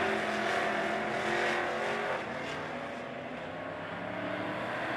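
POWRi super stock race cars roar around the dirt oval at Lebanon Midway Speedway in a heat race, a loud sustained engine drone that eases slightly as the pack moves on.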